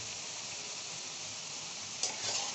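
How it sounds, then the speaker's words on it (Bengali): Potato with turmeric and dried chilli powder fries in hot oil for a rohu fish curry, giving a steady close sizzle that runs throughout, with a brief scrape of a stirring spoon near the end. "শুকনো লঙ্কার গুঁড়ো ভালো করে কষিয়ে নিতে হবে"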